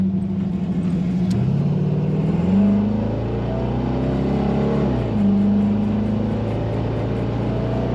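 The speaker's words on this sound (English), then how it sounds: "Lovely exhaust sound." A 1930 Ford Model A sedan street rod with a fuel-injected engine and automatic transmission rumbles steadily through its exhaust, rising in pitch twice as the throttle opens and then settling again, close and continuous with no talk.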